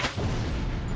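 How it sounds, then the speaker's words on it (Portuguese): An explosion blowing up a house in Minecraft, heard as a short, dense, booming rumble filling the whole moment, loud and close. "Ele tá explodindo a casa"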